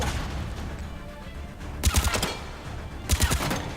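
Two quick bursts of semi-automatic weapon fire in Mass Effect 3, each a rapid cluster of sharp shots, close and loud over a low game background.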